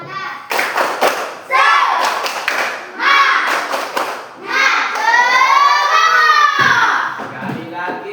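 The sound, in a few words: class doing tepuk semangat rhythmic clapping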